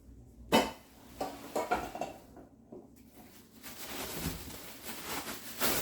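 Pots and pans clatter nearby, a sharp clank followed by lighter knocks and rattles as cookware is moved around.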